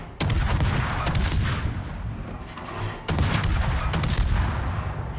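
Naval guns firing in a warship video game, Gdansk, with two loud booming salvos and a rumbling tail after each.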